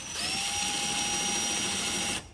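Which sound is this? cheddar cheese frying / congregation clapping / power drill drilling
power drill drilling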